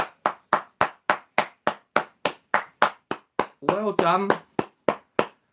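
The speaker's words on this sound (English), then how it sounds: "So you'll get a round of applause." Crisp, evenly spaced hand claps from a single nearby person during a live quiz night, a steady run of about twenty claps with a man's brief speech in the middle.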